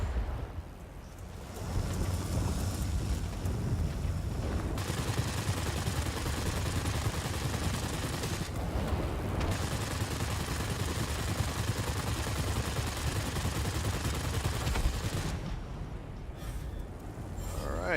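Rapid aircraft machine gun fire from a Curtiss P-36C Hawk fighter in the World of Warplanes flight game, a dense, loud, continuous burst lasting well over ten seconds with brief breaks, over a steady engine roar.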